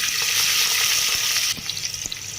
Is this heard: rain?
no